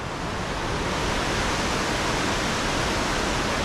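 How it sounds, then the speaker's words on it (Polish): A waterfall in Iceland in winter roars as a steady, dense rush of falling water, loud and unbroken throughout with no voices. "Jestem nad pięknym wodospadem"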